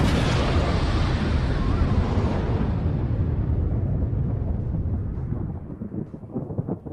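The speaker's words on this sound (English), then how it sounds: "The second explosion didn't displace enough snow to create another avalanche" A grenade explosion at a snowy mountain cave entrance, a loud sustained roaring rumble that slowly fades and thins out over several seconds, with no voices.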